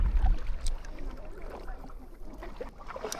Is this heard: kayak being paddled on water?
yes